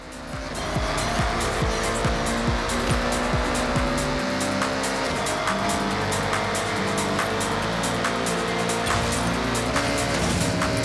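A car in the Forza Horizon 6 racing game roars loudly and continuously, its engine climbing through gear changes while tires squeal and skid as it drives and gets launched.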